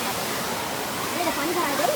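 Water flows steadily outdoors on an Odisha outing, a broad continuous rush like a small waterfall or stream, with voices faintly in the background.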